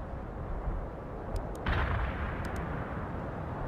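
Artillery fire in the World in Conflict video game booms as a rolling, rumbling barrage at a distance, with one heavier blast standing out midway and a few sharp crackles above the low roar.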